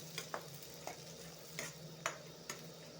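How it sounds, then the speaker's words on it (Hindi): Chopped onion and garlic frying in hot oil, a faint steady sizzle broken by several sharp clicks of a spoon stirring against the pan at uneven intervals. "तो फ्रेंड्स इसी तेल पे मैं प्याज और लहसुन को ऐड कर देंगे।"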